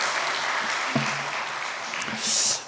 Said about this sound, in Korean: 다시 한번 일어나서 인사할 때 우리 박수로 한번 다시 한번 맞아주시기 바랍니다